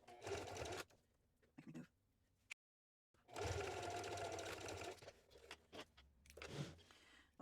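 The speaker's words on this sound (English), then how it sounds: "Now I want to baste my key leash onto my lining piece" A domestic sewing machine basting a key leash onto a tote lining piece, running in several close, steady bursts of stitching with short pauses and one brief silent break between runs.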